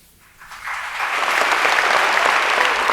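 Audience applause in a spiritual discourse hall swells in after a quiet start, building within a second into sustained, dense clapping from a large crowd that holds steady to the end.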